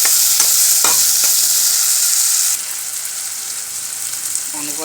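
Tomatoes for an egg curry fry in a pan with a steady, loud hiss, stirred in a few quick scrapes early on before the sizzle drops slightly and carries on alone.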